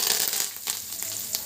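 Curry leaves crackling in hot oil for a tempering, alongside mustard seeds, chana dal, urad dal and dried red chillies, for a mango coconut pickle; a steady close hiss with scattered sharp pops.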